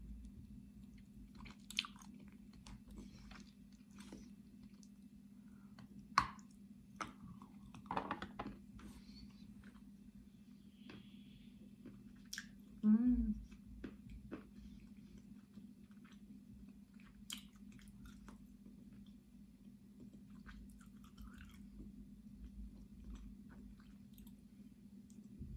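Salty Kyrgyz snacks are chewed close to the microphone, with scattered soft crunches and squishy bites over a steady low hum, quiet overall with a few sharper biting clicks.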